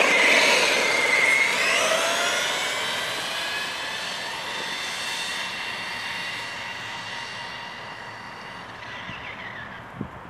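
A Thunder Tiger ST4 G3 RC truck on a 4S LiPo battery makes a high-speed run, its high electric motor whine loud at first, then fading steadily as it pulls away into the distance.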